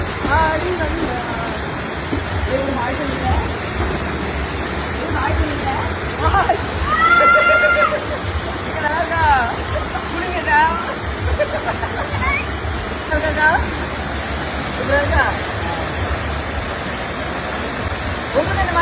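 Loud, continuous rushing water with sloshes and splashes as people bathe and play in it, and voices and shouts rise intermittently over the noise.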